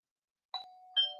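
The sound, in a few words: doorbell ringing as a guest enters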